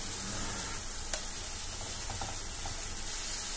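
Onion, green chili and curry leaves fry in hot oil with cumin in a steady, close, continuous sizzle, with a few faint clicks of stirring.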